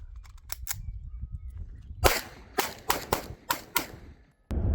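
A Shadow 2 pistol fires a handful of sharp, cracking shots in an irregular rhythm, a few quieter pops early and then a louder cluster spaced about half a second apart, heard at close range.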